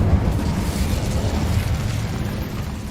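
A fire spell cast in the video game Hogwarts Legacy, heard as a steady, dense roaring whoosh of flame that holds loud for about three seconds and eases slightly toward the end.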